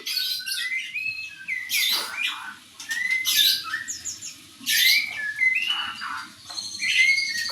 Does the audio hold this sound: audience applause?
no